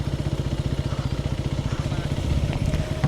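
A motorcycle rolls downhill in gear with the engine braking, giving a steady, rapid thudding putter close to the rider and holding a constant rhythm throughout.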